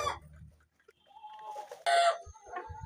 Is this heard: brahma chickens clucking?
yes